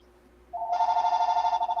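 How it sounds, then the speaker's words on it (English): A landline telephone rings with a bright, steady electronic trill that starts abruptly and pulses rapidly and evenly, loud and close, with no talking over it. "There's a phone call."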